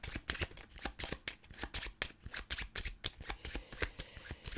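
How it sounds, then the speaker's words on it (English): A deck of playing cards is shuffled during a solo tabletop game of Terraforming Mars: Ares Expedition, giving a close, steady run of quick papery riffles and flicks with no talking. "And then we get to shuffle these cards."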